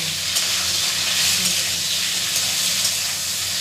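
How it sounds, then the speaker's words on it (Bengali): Cauliflower frying with salt and turmeric in a pan, giving a steady, loud hiss and sizzle that runs unbroken from start to finish, heard close up. "কপিটা দিয়ে দিচ্ছি, দেখুন ভেজে নিচ্ছি।"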